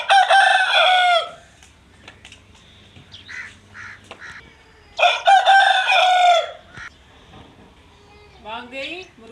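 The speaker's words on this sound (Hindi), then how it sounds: "इसको बोलते हैं बांग देई। बांग देई मतलब अजान देई।" A rooster crows loudly and close by, two long drawn-out calls several seconds apart, with softer clucking and a voice speaking in between.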